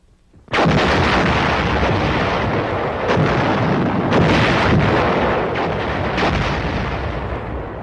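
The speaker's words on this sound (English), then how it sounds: "The howitzers to drop their explosives on the other side of the hill to prevent reinforcement or retreat." A howitzer artillery barrage erupts suddenly into a loud, continuous roar of overlapping booms and rumbling blasts that stays heavy and dense throughout.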